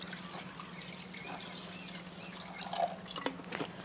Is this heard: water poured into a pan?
yes